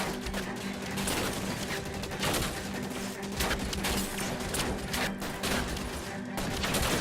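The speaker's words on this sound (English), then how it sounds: "I'm taking a lot of fire." Gunfire in the video game L.A. Noire comes as continuous, dense volleys of shots and rapid bursts layered over one another, loud and sustained, with a voice speaking now and then over it.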